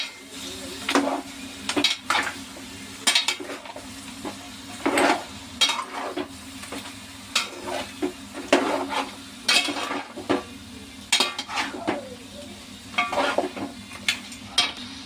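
Goat head meat stirred into curry in a metal pot, with frequent clanking, scraping spoon strokes in an irregular rhythm over a low sizzle, close and clear, with no talking.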